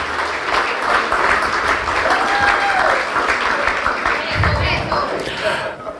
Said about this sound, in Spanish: Quiero el más fuerte de los aplausos que puedan dar aquí esta noche.